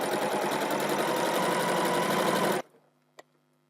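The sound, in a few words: sewing machine sewing quilt strip seam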